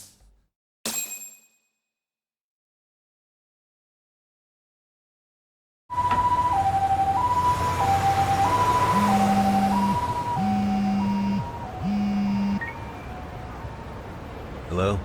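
An ambulance siren from the video game Lost Judgment starts suddenly after near silence, cycling through a steady two-tone wail, loud and close, with a lower horn-like tone joining in the middle.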